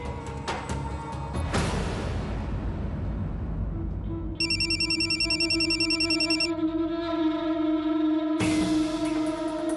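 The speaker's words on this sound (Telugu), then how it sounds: "ఫోన్ వచ్చినట్లుంది" A telephone rings with an incoming call in a household TV drama scene, a loud, bright electronic ring that starts mid-clip and repeats in a steady pulsing pattern after a burst of dramatic music.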